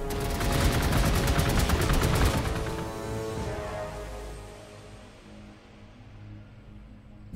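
Rapid automatic gunfire in Warhammer 40k Space Marine, a dense rattling burst lasting a couple of seconds, then fading into a lingering low rumble and ringing ambience.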